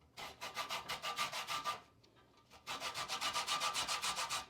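Lemon zested on the smallest side of a cheese grater, close rhythmic rasping strokes in two quick runs separated by a short pause.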